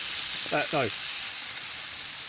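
Steady, close sizzling of food frying in a pan at a wild camp in the woods, lasting the whole time, with a brief voice sound early on.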